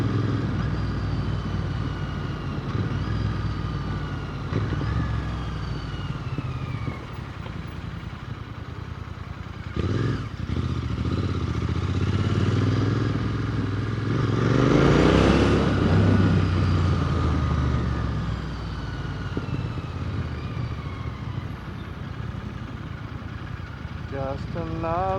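A motorcycle rides through Gold Coast, Australia streets, its engine droning steadily up close with wind rush, a rising rev swell midway and traffic noise around, while a rider talks over it.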